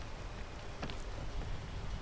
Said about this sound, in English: Oh my gosh, rain, stop.